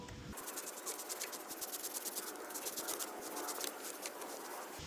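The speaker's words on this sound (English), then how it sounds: "I'm going to give it just a quick scrub" Quick scrub of a teak boat deck with cleaner: steady, rhythmic bristle scratching with brisk back-and-forth strokes, close and continuous for several seconds.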